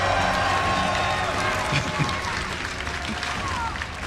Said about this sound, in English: Keep clapping. Let's go. Up 1-0. Give him your cheers.